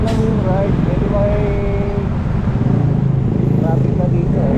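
Road traffic on C-5 Road in Manila on a weekday morning, heard from a motorcycle, with a steady loud roar of engines and passing vehicles throughout and voices talking over it.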